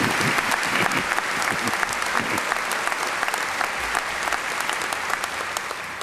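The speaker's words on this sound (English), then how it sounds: "Let's give an applause to that." Sustained applause from an audience fills a school district convocation hall, with dense clapping throughout and no voices standing out.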